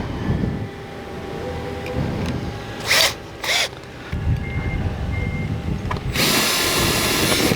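Tool knocking out the centers of rivets to free a tank valve, heard as a couple of short sharp bursts followed by a longer harsh grinding burst, close over a rumbling background.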